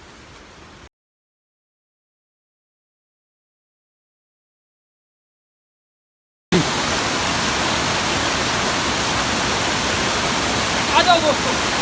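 A hidden forest waterfall at Rohini near Kurseong roars as a dense, steady broadband rush that cuts in abruptly after a stretch of silence and stays loud and constant.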